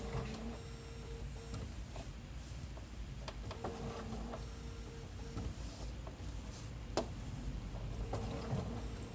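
A domestic sewing machine stitches around a fabric mouse outline, giving a soft mechanical whir with faint ticking needle strokes and brief pauses, low and steady at close range.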